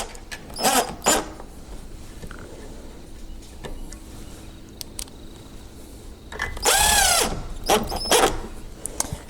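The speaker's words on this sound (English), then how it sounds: "I'm just going to go ahead and screw this cover plate in, just for fun, to make something look nice" A power screwdriver drives screws to fasten a cover plate onto a door lock, with short whirring bursts, a longer loud run near the end, and scattered clicks and handling knocks in between, close up and without talk.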